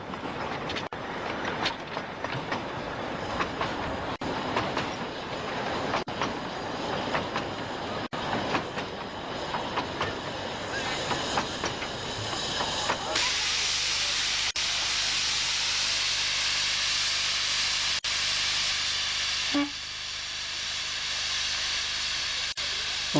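A narrow-gauge steam locomotive on a coastal light railway runs with rhythmic chuffing and clicking wheels, then its boiler blows off in a loud, steady hiss that continues to the end, with faint talk underneath.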